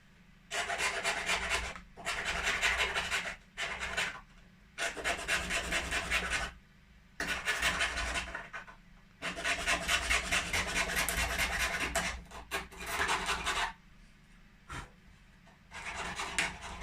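Repeated rasping strokes of a file cleaning up the edges of small model fascia boards for a G scale toilet building kit, coming in bursts of a second or two with brief pauses between, close and steady.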